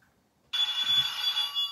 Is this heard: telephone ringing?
yes